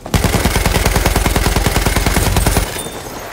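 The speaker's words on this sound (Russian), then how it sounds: "Вижу пулемет противника." An enemy machine gun in the World War I shooter game Battlefield 1 fires a loud, close, sustained burst of evenly spaced rapid shots for about two and a half seconds, then cuts off into a fading rumble.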